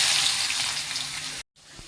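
Onion and green chili frying in hot oil for rava kichadi, a steady close sizzle with a brief drop to silence near the end before the crackle resumes.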